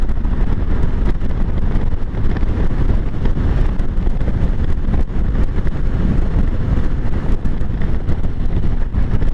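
A Honda GL1500 Goldwing cruises at highway speed, about 83 mph, with loud, constant, buffeting wind roar drowning out any engine tone.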